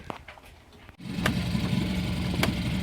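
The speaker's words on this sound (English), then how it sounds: "I'm gonna get the engine started back here" A sailboat's outboard motor catches after a brief pull, then settles into a steady, close idle hum with a couple of short sharp bursts over the running engine.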